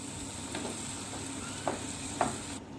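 Chopped onion, dried chillies and salt fry in a pan with a steady, faint sizzle, broken by a couple of soft stirring clicks near the end.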